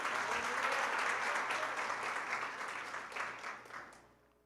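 A church congregation giving a round of applause, a broad spread of clapping that swells and then tapers off toward the end, moderately loud with no talk.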